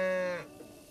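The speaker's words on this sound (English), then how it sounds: "Look, that cow mad." A single cow moos in a Zelda Breath of the Wild game: one loud, harmonic low call that ends within half a second, followed by quiet ambience, with no talking.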